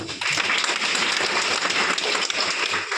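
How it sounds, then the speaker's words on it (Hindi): A crowd claps steadily for about three seconds, a dense, continuous wash of applause without voices. "इनके लिए तालियां होना चाहिए"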